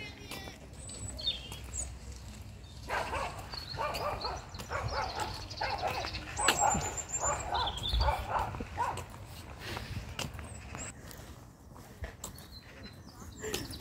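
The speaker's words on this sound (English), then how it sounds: "That little dog was making all the noise." A small dog yaps and whimpers repeatedly in short bursts outdoors in Victoria Park, Waterloo, Liverpool, moderately distant, with murmuring voices and birds in the background.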